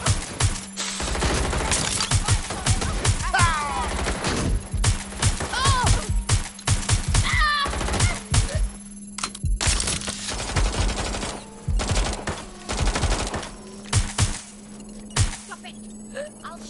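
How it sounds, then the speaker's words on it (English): Rapid bursts of gunfire and heavy shots in Watch Dogs Legion, dense and sustained across the whole stretch, with a steady low hum beneath and someone shouting over the firefight. "I'm getting shot here!"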